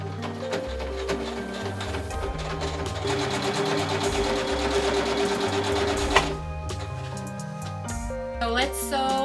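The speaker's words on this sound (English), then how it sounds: "let's sew the sleeves and the sides" Sewing machine stitching the sleeves and side seams of a quilt-inspired blouse, a steady close mechanical whir with bursts of rapid stitching, pausing briefly before starting up again.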